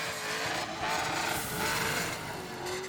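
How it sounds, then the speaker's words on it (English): A swapped GM LS V8 engine in a car roars steadily at an LS swap festival event, a loud, continuous throaty drone with slight rises and falls in intensity and no talking over it. "and the roar of an LS engine."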